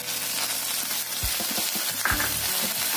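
Chopped onion and garlic fry in hot oil for a spinach and red lentil dish, giving a steady, close crackling sizzle with a few dull knocks of stirring partway through.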